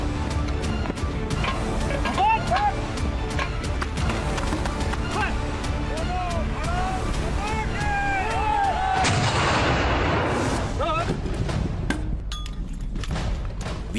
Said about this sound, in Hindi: यहाँ फायरिंग करती हैं 81 mortar, MMG, 51 mortar, AGL, rocket launchers और राइफल ग्रेनेड्स की